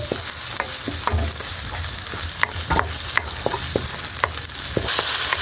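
Garlic sautéing in a cooking pan after the onions, a steady close sizzle of frying with repeated scraping stir clicks and taps throughout, growing slightly louder near the end.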